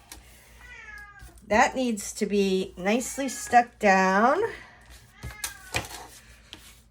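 A kitten meows repeatedly indoors, a run of drawn-out, rising and falling cries close by, while a person talks quietly before and after.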